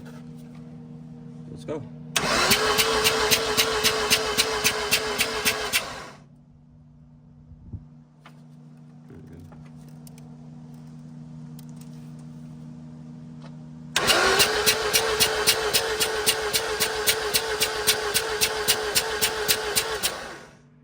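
Mazda SA22 rotary engine cranking over on the starter for a compression test, two bursts of rapid rhythmic pulsing, each about four seconds, separated by a quieter stretch with a steady hum.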